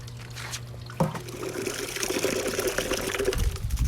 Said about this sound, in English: And filling up the water we go.